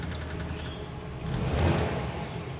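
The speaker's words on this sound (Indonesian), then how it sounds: "Mari kita coba hidupkan mesinnya." A 1981 Toyota FJ40 hardtop's petrol engine runs at a steady mid-pitched drone, swelling briefly louder as it is revved, with no talk over it.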